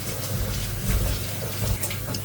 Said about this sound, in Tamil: இந்த தண்ணியை ஊற்றிட்டு நான் காட்டுறேன் உங்களுக்கு.